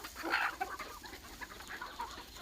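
Chickens on a poultry farm clucking faintly at a distance, scattered soft calls with one brief louder burst amid quiet background noise.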